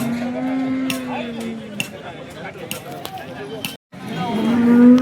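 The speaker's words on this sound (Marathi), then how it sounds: "आता आपण ही शिंगटी गाय कवर करतोय" A cow lows at the Sangola cattle market, a drawn-out bellow near the start and again toward the end, over busy crowd chatter and market clatter with people talking throughout.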